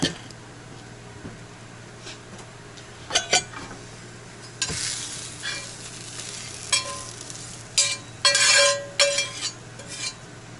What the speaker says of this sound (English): now that the hash browns are pretty much done, I can go ahead and empty them out onto this plate here